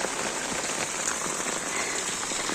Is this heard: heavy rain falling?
yes